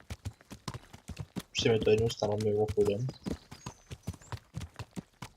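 Horse hooves clopping in a steady walking rhythm in the medieval game Kingdom Come: Deliverance, repeated evenly through the whole stretch while someone talks over the middle of it.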